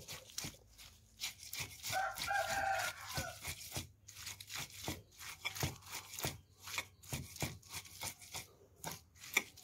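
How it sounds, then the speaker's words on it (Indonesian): Fresh ginger pounded and crushed in a kitchen gives repeated sharp thuds and crunches, arriving in an uneven rhythm of close, distinct blows. "Kita tumbuk jahenya, geprek-geprek, dan kita haluskan lagi."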